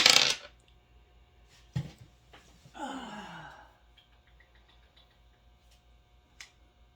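Dice clatter briefly at the start and give a short knock a moment later, followed by a soft sighing breath and faint ticks in an otherwise quiet room.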